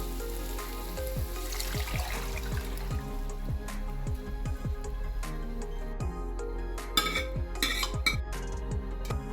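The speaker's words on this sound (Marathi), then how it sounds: "आता आपण ह्याच्यात डाळ टाकून घेऊ." Cooked dal added to a pan of spiced mix with chili, turmeric, coriander powder and coriander leaves, for dal baati: steady clinks of a utensil against the metal pan with soft wet stirring, close and moderately quiet.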